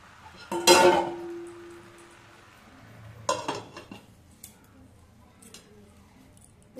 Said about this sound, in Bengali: এবার আমি নাড়াচাড়া দিয়ে সেদ্ধ হওয়া পর্যন্ত ঢেকে রাখবো।